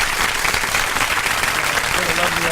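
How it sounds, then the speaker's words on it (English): A dense, steady round of applause from a crowd fills the whole short stretch, loud and close, with no pauses. "let me give you a round of applause."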